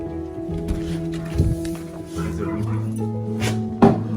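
A puppy yips and whimpers in short bursts close by, over a steady low engine-like hum, with a voice talking in between.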